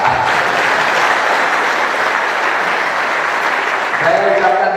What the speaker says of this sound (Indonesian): Tepuk tangan dan boleh.